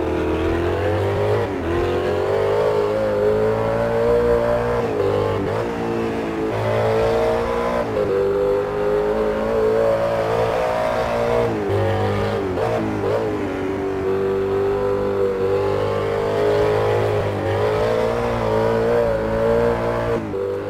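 A racing car in a video game is driven at its limits through corners, its engine revving hard and rising in pitch, dropping briefly at gear changes and braking, loud and continuous with no talk.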